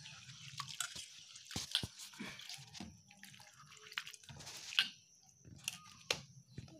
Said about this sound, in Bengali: তো এইভাবে আমাদের ধুয়ে নিতে হবে। দেখুন সুন্দর করে আমার মা ধুয়ে নিচ্ছে।